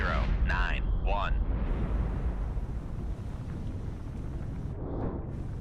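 A deep, rumbling torpedo explosion sinking a ship in the submarine simulation game Cold Waters, a sustained low roar that fills the whole stretch, with brief synthetic chirps at the start and near the end.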